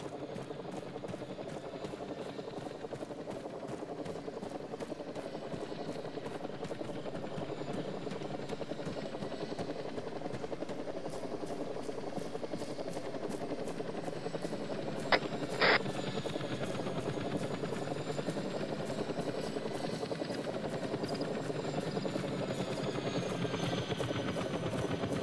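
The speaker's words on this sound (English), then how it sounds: "Helicopters right above us to our southwest." A helicopter's rotor in ArmA 3 drones steadily overhead throughout, a continuous chopping rumble close by, with a couple of brief clicks partway through.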